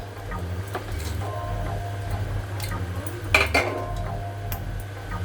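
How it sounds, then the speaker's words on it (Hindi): Paneer cubes dropped into boiling capsicum gravy in a pan; a few clinks of a metal spoon against the pan and a soft splashy plop mid-clip, over a steady low hum of the stove. "अब हम ये पनीर डाल देते हैं।"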